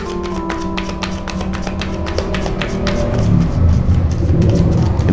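Tarot cards are shuffled in quick, irregular riffling taps, close and fairly soft, over a faint steady background hum.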